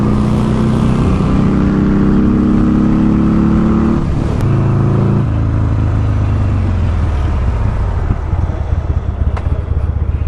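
A Buell motorcycle engine coming back to life as it starts, a loud, steady engine roar with the revs dropping and settling partway through, heard up close with no talking.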